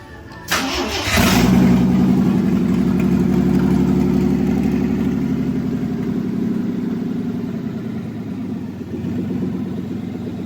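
A 1985 Jeep CJ7 straight-six engine with straight headers fires up and revs, a sharp crank and catch followed by a loud, rough, throaty idle that drones steadily up close with slight swells in level.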